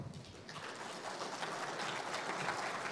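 A conference audience gives sustained applause, a dense, even wash of clapping that carries on for several seconds with no talking.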